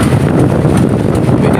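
Strong southwest monsoon wind roars across the sea around a small fishing boat, a loud, continuous buffeting rush hitting the microphone with no letup.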